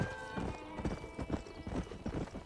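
Quick, rhythmic hoofbeats of a ridden horse in Red Dead Redemption sound up close, with a brief whinny near the start and soft player talk in the background.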